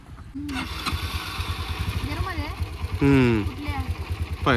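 A Yamaha motorcycle engine runs steadily in the background with a low, pulsing rumble, while people talk loudly over it throughout.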